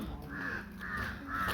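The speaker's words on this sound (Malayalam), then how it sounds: "ഇവിടെ കണ്ടോ കാക്ക, നിറയെ കാക്കകൾ" Crows caw in an outdoor spot in Ootty, giving three harsh calls at a moderate distance over a faint background hum.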